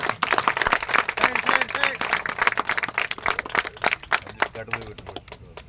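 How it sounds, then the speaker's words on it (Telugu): An audience at a public gathering claps in dense, continuous applause, with a voice talking over it, thinning out toward the end. "చప్పట్లు గట్టి కొట్టాలి అందరూ."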